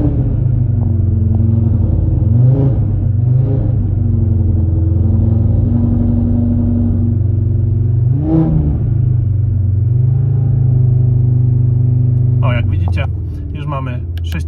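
An Audi RS3 8Y engine, tuned to Stage 2, holds a loud, steady drone at high revs with slight rises and dips near the limiter, while someone talks over it throughout.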